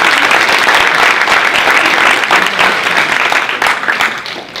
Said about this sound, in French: je voudrais que vous applaudissiez très fort Monsieur Karl-Henri Voisard